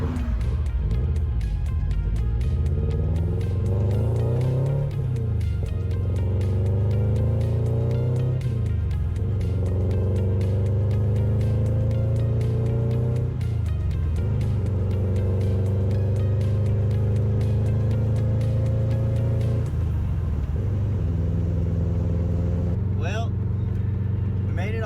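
A car drives slowly through thick salt on salt flats, its engine droning and revving in long rising strains as the tires churn, loud and close, with tire crunch and rattles over it.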